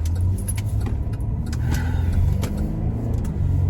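Car interior on a hurried morning drive to work, with a steady low engine and road rumble throughout and faint clinks or jangles over it, no talking.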